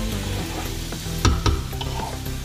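Lamb meat sizzles and crackles as it cooks in a pot for an Arabic-style stew, a constant close frying hiss with a couple of louder stirring clunks.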